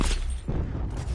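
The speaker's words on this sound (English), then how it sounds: "Cluster grenade." Cluster grenade going off in Call of Duty: Black Ops 4, a dense, rumbling burst of overlapping explosions that fills the moment with a loud, continuous boom and crackle.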